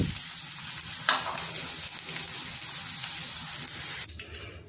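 Potatoes fry in oil in a pan with a steady, close sizzle and light stirring that runs unbroken, then the frying cuts off abruptly near the end with a few faint clatters.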